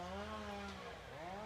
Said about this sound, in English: Sorry about the chainsaw noise.